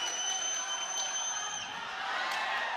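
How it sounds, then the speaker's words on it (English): A boxing crowd roars steadily through the arena after a body shot, a broad, continuous swell of cheering and whoops with a commentator talking over it. "Crowd coming to life."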